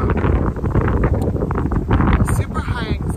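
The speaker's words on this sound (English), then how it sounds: "the wind's kind of blowing, so I don't know if you guys can hear me that well" Wind blowing outdoors and buffeting the microphone in rough, continuous low gusts, loud and close, while a person talks over it.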